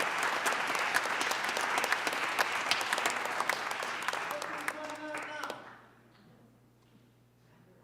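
A concert crowd at a Ukrainian benefit show applauds a performer after two original songs, loud clapping for several seconds that fades out, leaving a quiet room with faint murmuring.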